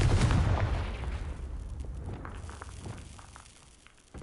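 Confringo fire spell blast from the video game Hogwarts Legacy on PS5: one loud, booming burst at the very start that rumbles and slowly fades over several seconds, with no voices.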